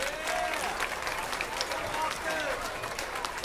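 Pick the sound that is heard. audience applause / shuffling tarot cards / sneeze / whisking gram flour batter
audience applause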